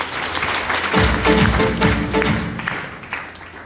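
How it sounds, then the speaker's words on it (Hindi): Loud audience applause at an indoor event, clapping swelling up after a brief lead-in, holding strong, then thinning out with some voices mixed in. "जोरदार तालियां हो जाए इनके लिए"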